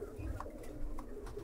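Young homing pigeons coo softly and repeatedly in a small loft, a low muffled burbling close by with faint rustling and no talk.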